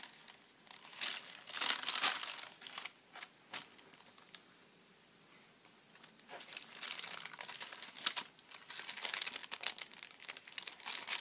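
Shiny paper sheets from a small pad are crinkled and shuffled by hand in bursts of close, crisp rustling, with a quiet pause in the middle before the handling resumes.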